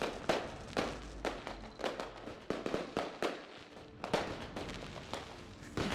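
Fireworks go off in the video game Surviving Mars, with a string of sharp bursts and crackles repeating every half second or so over several seconds.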